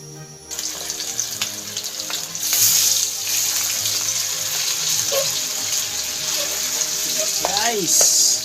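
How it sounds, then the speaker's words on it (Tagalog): Pork liempo frying in Golden Fiesta cooking oil gives a steady, bright sizzle with soft crackles, close and fairly loud, and a brief voice is heard near the end. "So piprituhin ko na itong aking liempo ngayon guys."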